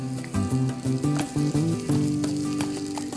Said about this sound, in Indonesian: kita tambahkan 1 butir telur, lalu kita masak sampai matang dan tercampur rata